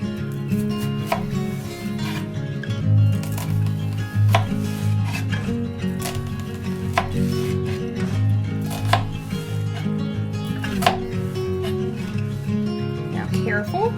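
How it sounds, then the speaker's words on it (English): A knife chops an onion on a board for chicken noodle soup, a steady run of close, firm cuts with clicking board contact continuing for several seconds. "it's going to give us a really easy way to cut the onion just a bit faster"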